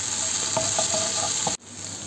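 Onion with ginger garlic paste frying in a pan while being stirred, a steady bright sizzle with soft scraping strokes of a spoon, close and continuous before an abrupt cut.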